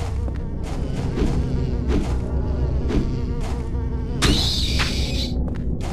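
Buzzing bat-mosquito insect enemies in Silent Hill 4: The Room swarm with a constant wavering drone. A sudden loud, bright hit and swell arrives near the end, with faint thuds underneath.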